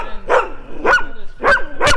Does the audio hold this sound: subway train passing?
no